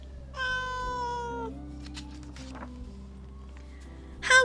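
A cat meows in a long, drawn-out cry near the start, followed by quieter rustling and a short, louder burst of noise at the end.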